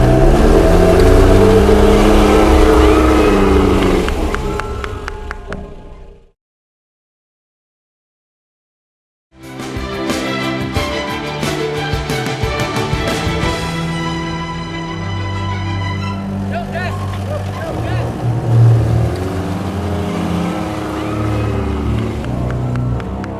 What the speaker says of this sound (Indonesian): Deru mesin terus berusaha mengalahkan tebing curam ini.